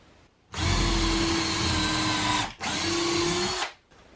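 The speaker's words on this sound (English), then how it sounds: "Drilling a hole, and then getting these sunk into place." A power drill with a 3/16 drill bit bores holes into wall studs for anchor bolts, whirring loudly and steadily in two close bursts separated by a brief pause.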